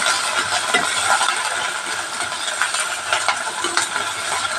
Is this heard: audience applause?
no